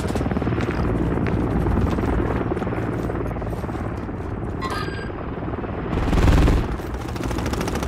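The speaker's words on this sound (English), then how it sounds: "Friendly Overwatch helo inbound" A friendly overwatch helicopter in Modern Warfare 3 multiplayer on the Karachi map, its steady rotor roar filling the scene amid scattered gunfire, swelling briefly louder near the end.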